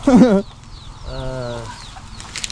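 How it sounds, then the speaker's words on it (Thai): A fighting rooster lets out a loud, harsh cluck up close, followed by a softer drawn-out call, with faint rustling and a low hum behind. "ไก่คุณเพลงนะไก่ตีคนนี้"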